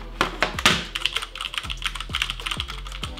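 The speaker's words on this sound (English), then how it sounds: "The typing experience is pretty lovely." Close, crisp keystrokes clack in an irregular, quick rhythm on a Durgod K320 Taurus mechanical keyboard with Cherry MX Red switches, each press followed by a soft low thud, with no voices.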